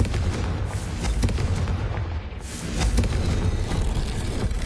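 Repeated blasting-spell explosions in the Hogwarts Legacy video game, heard as dense, continuous booming and rumbling bursts that overlap through a loud combat scene, with no speech.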